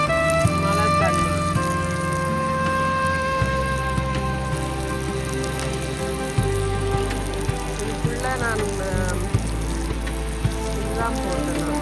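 Rain falls in a home garden in Germany, a steady patter heard beneath a person speaking and other tonal background sounds.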